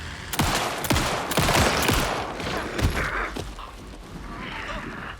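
Rapid shotgun blasts in the horror game Alan Wake 2, several loud booming shots fired in quick succession with dense, chaotic combat noise between them and little pause.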